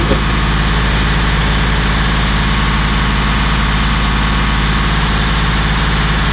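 A Datsun 280Z engine running with a four-barrel carburetor, idling loudly and steadily up close with an even low rumble throughout.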